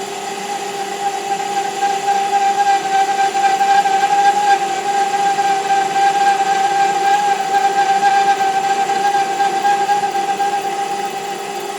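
A metal lathe parting-off tool under power feed, cutting steel with a steady, sustained tonal whine and drone that holds evenly throughout, with no talking.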